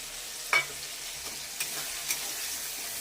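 Spices fry with tomatoes in a pan for a paneer and cauliflower curry, a low, steady hiss broken by a few soft knocks and scrapes of stirring.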